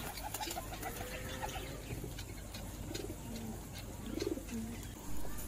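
Pure white pigeons cooing softly in low repeated calls, with rustling and shuffling movement in between, close but quiet, with no talk.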